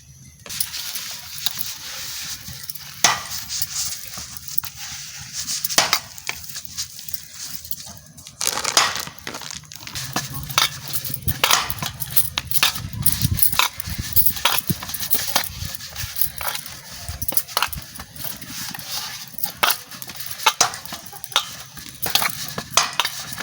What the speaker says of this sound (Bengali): আরও জোরে জোরে ঠেসে ঠেসে সেনতে হবে